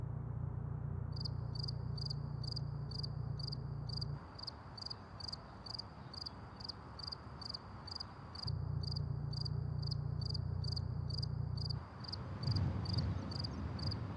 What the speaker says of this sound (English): Maybe we can run some cricket sounds